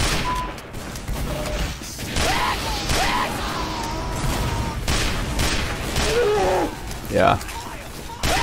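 Rapid gunfire from a weapon with wide bullet spread in Team Fortress 2, a dense rattling fusillade running throughout with impacts and game effects, a voice talking over it.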